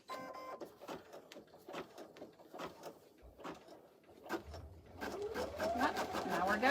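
Embroidery machine stitching an in-the-hoop notebook cover, rapid repeated needle taps in a steady rhythm at close range, building to a denser, busier whirring toward the end.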